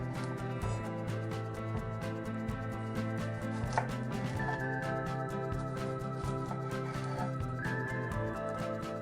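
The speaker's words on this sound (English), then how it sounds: "Now we want to cut our tomato for the sauce." A knife chops tomato on a board for a Mexican chilaquiles sauce, with quick, fairly faint cuts heard under steady background music.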